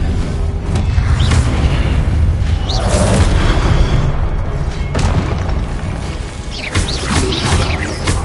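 Expelliarmus disarming spells cast in Hogwarts Legacy, heard as several sharp thumping bursts and booms spread over a continuous, loud wash of battle effects.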